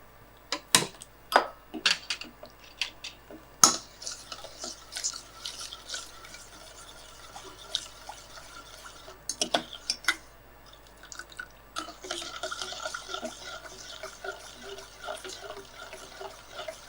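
Water trickles and splashes into a pan nearby while making Seeraga Samba paal payasam, with drips and a faucet-like flow, while a person talks over it.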